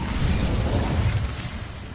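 An Incendio fire spell is cast in Hogwarts Legacy, a short whooshing burst of flame with a dense, rumbling low body that swells then fades over about two seconds, alone.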